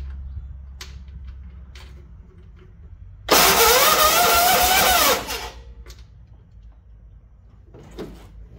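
Quiet at first, then the engine of a vehicle left sitting in a shed for about 20 years cranks and fires into a loud roar for about two seconds before cutting off, leaving faint clicks and quiet.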